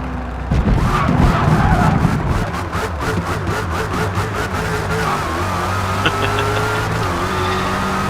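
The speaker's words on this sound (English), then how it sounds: "Hear that supercharger." A Dodge Charger SRT Hellcat with a manual gearbox in Forza Motorsport, its supercharged engine revving loudly and close with a rising whine over repeated pulses of exhaust, then settling into a sustained drone.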